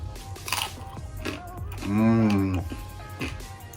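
Crisp crunching bites and chewing of roast pork crackling close up, interrupted by a short murmured voice in the middle.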